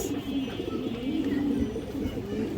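Pigeons coo softly and continuously, low throaty calls overlapping in a gentle murmur from nearby birds.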